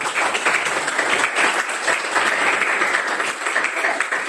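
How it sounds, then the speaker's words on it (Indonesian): A classroom of students claps together in a music lesson, a dense, steady burst of hand clapping that stays loud and even throughout with no talking over it. "Ya bagus, Oka, tepuk tangan dong."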